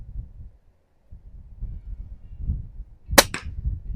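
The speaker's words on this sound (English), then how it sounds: "Let's see if I can shoot the middle out of it without breaking it." Pellet gun fired at a hanging clay pigeon on a windy range: one sharp crack near the end, with a second quick report right after, over low rumbling wind buffeting.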